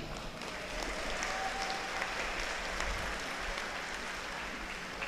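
A large gathering of about 1,647 new polytechnic students applauds at a campus orientation, a faint, even wash of clapping sustained throughout, heard from a distance.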